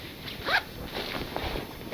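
A single quick pull of a waterproof zip on a Halvarssons Wein motorcycle jacket, a short rising rasp, followed by faint rustling and handling noises.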